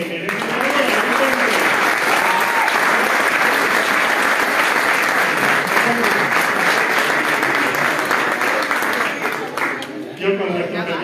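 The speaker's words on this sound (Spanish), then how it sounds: "Así que un fuerte aplauso que se merece." Audience at a homebrewer awards ceremony gives a long, loud, sustained round of applause filling the room, with voices mixed in and the clapping thinning out just before the end.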